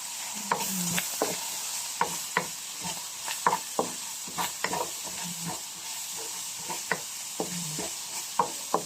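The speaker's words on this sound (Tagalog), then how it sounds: "Igisa lang natin" Bean sprouts sautéed in a hot pan for lumpia filling sizzle steadily while a utensil stirs and scrapes in a quick, regular rhythm of sharp clinks, close and clear, with no talking.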